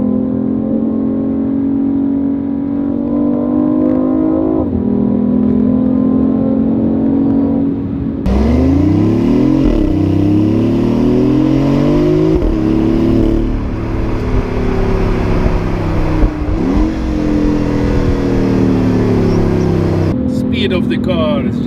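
A BMW i8 hybrid supercar in sports mode accelerates, its engine note rising and falling through repeated gear changes, loud and close from inside the cabin, with someone talking over it.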